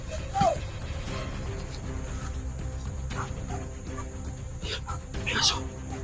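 A dog gives a couple of brief barks and yips over a steady background hum, with people talking quietly nearby.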